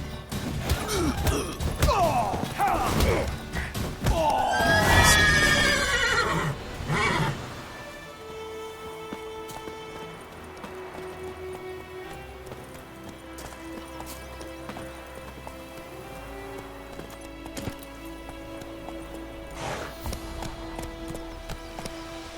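Geralt's horse Roach in The Witcher 3 whinnies and clops along with hooves and huffing breaths up close, the activity fading after several seconds into quieter ambient game music.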